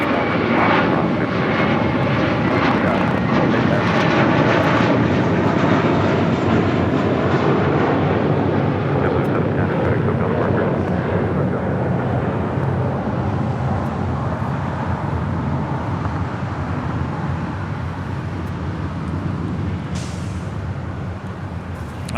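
A fixed-wing airliner lands on runway 25 left at Los Angeles International Airport, a loud, sustained engine roar that fills the opening seconds and then slowly fades as the plane rolls away.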